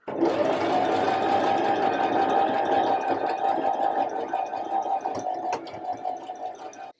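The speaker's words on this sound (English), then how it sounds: "So I just finished all of my top stitch. So I did around the armholes and around the neckline." A sewing machine runs loud and close in one continuous stretch as it top stitches around a jumpsuit's neckline and armholes, then slows and stops near the end.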